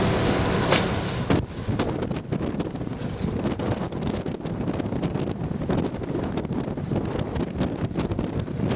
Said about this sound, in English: The wind's eased a bit.